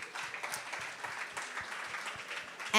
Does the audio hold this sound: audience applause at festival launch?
yes